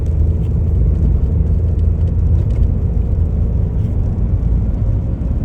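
A VW Beetle with an 01M automatic transmission hums steadily while driving up through the gears, its engine and road rumble loud and constant and no shift break standing out.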